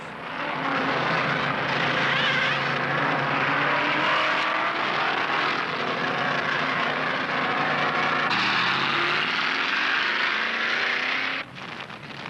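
NASCAR stock cars roar through the pits during the 1972 Winston 500, a loud, dense engine wash that stays constant for most of the stretch and then shifts in tone as cars pass, with no voices.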